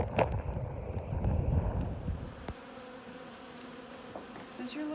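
Bees swarm and buzz loudly around a beehive outdoors, a dense close hum that drops to a fainter, steadier drone midway, with some wind noise on the microphone.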